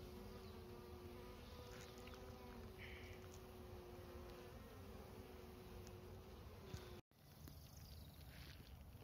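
Honey bees buzz steadily inside a mating nuc hive, a dense, continuous close drone with no talk over it.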